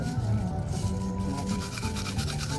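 A stainless steel necklace scrubbed by hand with household cleaning supplies, a steady close rubbing and gritty scouring that continues without pause, no voices.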